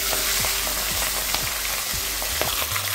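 Katla fish head frying in hot mustard oil, a steady close sizzle with a few soft scrapes and knocks as it is turned over in the pan.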